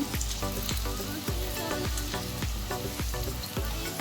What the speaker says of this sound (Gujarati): આપણે વધારે તેલ આવવા દેવાનું છે અને આપણે આ ડબલ ફ્રાય કરવાની છે